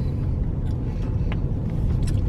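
A buggy drives along with a steady low engine rumble and road noise close up, with a few faint knocks over the drone.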